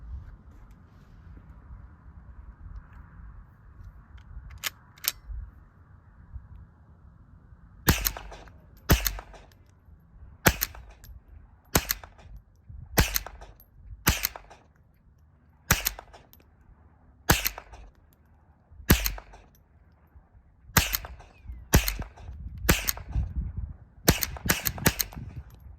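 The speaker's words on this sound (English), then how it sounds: "gonna dump a magazine full and make sure she shoots good for him" A Springfield 87A .22 rifle fires a full magazine at a range, each shot a sharp crack in an uneven string of about fifteen, some spaced wide and some close together, loud and near with quiet pauses between.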